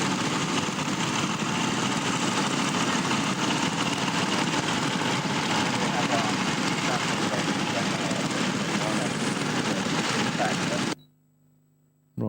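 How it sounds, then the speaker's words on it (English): An Anzani vehicle with a Jack 5 engine runs in a steady, loud mechanical drone that holds without a break for about eleven seconds before cutting out abruptly. "this is the Anzani with a Jack 5 engine in it"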